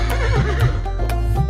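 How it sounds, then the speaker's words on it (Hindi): A horse's neigh from a Hindi nursery rhyme, with a wavering whinny over a steady musical beat and no voices. "हिन हिन करता घोड़ा भागे,"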